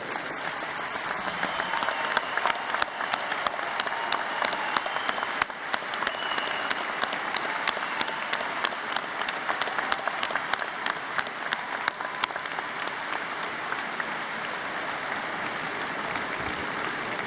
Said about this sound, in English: Therefore, be it resolved that the delegates assembled here show their appreciation by applause for International President Barry Palmer